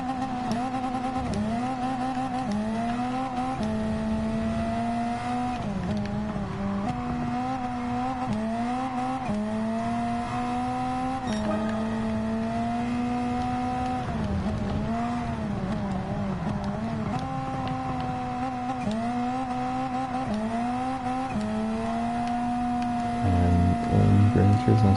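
Engine of a front-wheel-drive Hyundai Elantra touring car making about 635 horsepower in Gran Turismo 7 at Lago Maggiore, a loud, continuous drone that rises and falls in pitch as the car shifts and accelerates through the lap.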